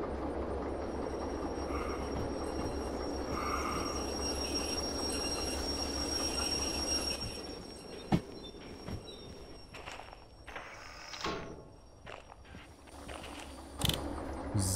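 Rail wagons being shunted by a locomotive at a steelworks yard in the Derail Valley train simulator game, with a steady rolling rumble and rattle that gives way to scattered clanks, couplings knocking and brief wheel squeals.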